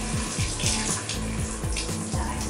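Water runs from the tap of a children's Kiddy Wash toy sink, a steady close splashing stream lasting the whole moment with no talk over it.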